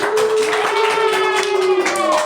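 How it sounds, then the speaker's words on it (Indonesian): Classroom applause for a student group after a discussion presentation, a steady dense patter of many hands clapping close by for about two seconds with a faint voice underneath. "Berikan tepuk tangan untuk kelompok."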